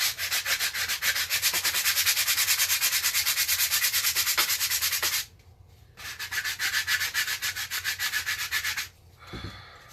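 Plastic Nerf gun being sanded to wipe off a molded serial number: rapid, rhythmic rasping strokes, close and loud, in a long run, then a brief pause and a second burst of scrubbing before a few quieter scrapes.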